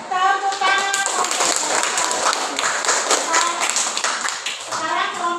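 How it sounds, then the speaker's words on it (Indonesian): Schoolchildren in a classroom clap their hands together in a dense, steady burst of applause that lasts throughout, with children's voices chattering over it. "Ya, tepuk tangan untuk"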